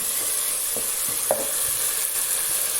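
Softened tomatoes frying in a pan for baingan sabzi give a steady, close sizzle throughout, broken by a few faint scrapes of stirring, with no talking.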